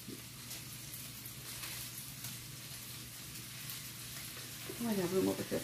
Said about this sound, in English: The grease is already simmering away.